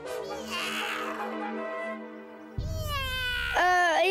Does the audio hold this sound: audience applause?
no